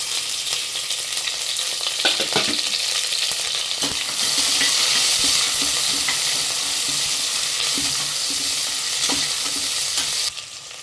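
Onions, curry leaves and garlic sauté in hot oil with a steady broadband sizzle, while a spoon or spatula scrapes and stirs against the pan in irregular knocks throughout; no voices.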